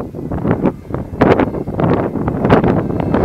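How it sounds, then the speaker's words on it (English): Heavy wind buffeting the microphone low over rough ground at Morvah, a continuous roaring rumble with gusty surges that peak sharply, loud and close throughout. "You can tell when I get down low how windy it is"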